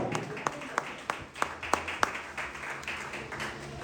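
A church congregation claps for a boy preacher, a series of sharp separate claps spread over a few seconds while a voice talks over them.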